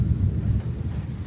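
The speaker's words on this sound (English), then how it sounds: "you can hear the thunder behind me." Low rumbling thunder from a rainstorm in Jacksonville, Florida, a brief steady roll heard at a distance with no other sounds over it.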